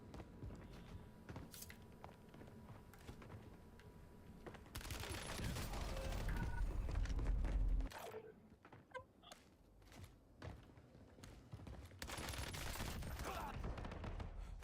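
SMG gunfire in the Call of Duty Warzone video game, on the Stadium map: bursts of rapid shots with game noise between them, loudest in a dense stretch midway.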